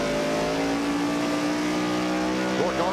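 NASCAR stock cars racing at Richmond in spring 1996, engines roaring loudly, with a sustained engine tone and a brief rising whine near the end, as from a car pulling away.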